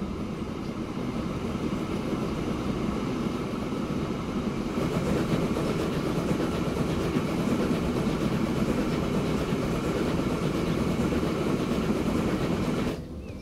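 Steam locomotive in the Transport Fever 2 video game, set around 1860 in a desert, chuffing slowly uphill at about 7 km/h with a dense, steady, loud rhythmic rumble that cuts off abruptly at the end.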